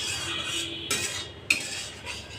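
Figs and shrimp are stirred together in a frying pan, with a utensil scraping and clinking against the metal over a continuous soft sizzle; two sharper clinks stand out, and no one speaks.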